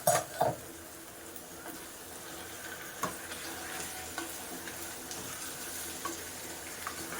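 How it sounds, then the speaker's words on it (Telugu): Marinated chicken goes into a pan of onions for a tomato chicken curry, with a couple of sharp clatters at the start and then a steady, soft sizzle of frying close by. "ఈ టైంలో నేను మ్యారినేషన్ చేసిన చికెన్ అయితే వేసేసుకుంటున్నాను."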